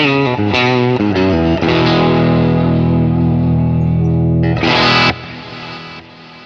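Electric guitar played through a modelled 1965 Deluxe Reverb amp, with crunchy distortion and echo, loud and continuous: quick picked notes lead into a long sustained chord, then a brief bright strum that decays.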